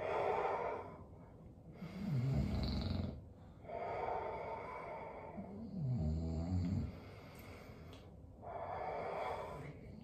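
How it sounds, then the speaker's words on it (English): Slow, deep breaths taken while seated during a full body workout with sliders, loud audible inhales and exhales alternating in a steady rhythm, close to the mic, with no talking. "seated, take a few deep inhales and exhales in and out"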